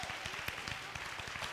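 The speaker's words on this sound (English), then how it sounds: "Let's give her another round of applause" Faint, distant audience applause for a speaker at a university event, steady patter of many hands clapping.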